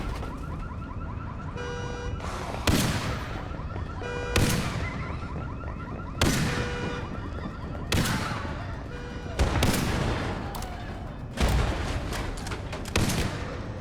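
Gunfire in the isometric roguelike video game Section 13: heavy single shots, each with a sharp crack and a long echoing tail, repeating about every one and a half to two seconds over a steady game backdrop.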